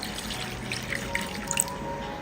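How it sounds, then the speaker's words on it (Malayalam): Water pours steadily into a pot of jackfruit seed curry with a soft continuous gurgle, a few small bright splashes and drips rising above it. "ആവശ്യത്തിനുള്ള വെള്ളം ഒഴിച്ചു കൊടുക്കാം"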